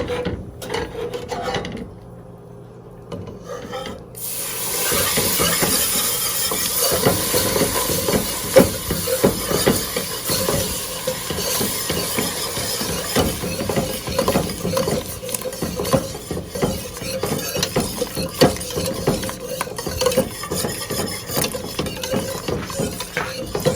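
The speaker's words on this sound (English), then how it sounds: "And now I'm gonna add in my milk mixture." Warm milk mixture being poured and whisked into a macaroni pie mixture in a bowl, a steady close scraping and sloshing rasp that runs continuously after a quieter start.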